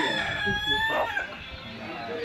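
A rooster crows with a long drawn-out call, and hens cluck softly nearby, heard at a moderate distance.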